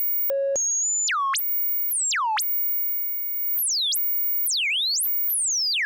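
Synthesizer sine tones jumping to random pitches, each sliding sharply downward on fast exponential bends, in bursts separated by short gaps.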